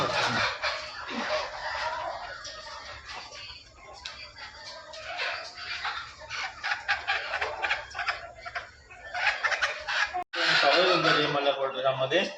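Village hens of mixed colours cluck steadily, several birds close by, with a brief crow-like call near the end and a person talking over the flock.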